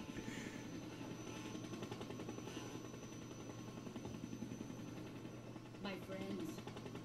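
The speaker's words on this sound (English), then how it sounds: "I'll totally stop the helicopter" Helicopter in Metal Gear Solid 3: Snake Eater, a steady low rotor drone and engine hum running throughout at moderate distance, with a brief sharper burst near the end.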